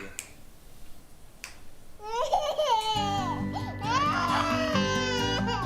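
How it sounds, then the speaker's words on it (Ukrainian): An infant cries in a tense film trailer scene, with rising and falling wails that begin after a quiet opening and continue over a low, swelling musical score. "Вона ж плаче."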